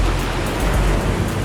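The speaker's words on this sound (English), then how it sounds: "Big sneaker waves, dude." Steady broadband roar of heavy surf on a beach during striped bass fishing, large sneaker waves crashing continuously with no clear breaks, loud and close, no voices.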